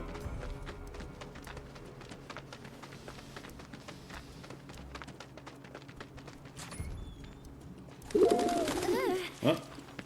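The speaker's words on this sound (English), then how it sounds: "Oh, pigeon on the head." A pigeon coos in Final Fantasy VII Remake, a burst of soft throaty calls near the end, rising over a steady bed of game ambience with footsteps and clatter.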